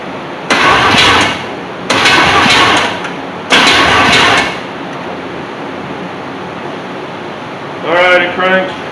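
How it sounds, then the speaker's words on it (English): A 1976 Chevy C20 truck's starter cranks the engine over in three separate bursts of about a second each, with short pauses between them, loud and close. A brief voice follows at the end. "go hit the key and see if the wiring's any good,"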